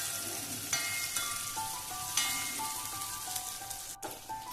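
Onions for a curry fry in a pan, producing a continuous close sizzle with light crackles and a few soft scrapes of stirring. No one speaks.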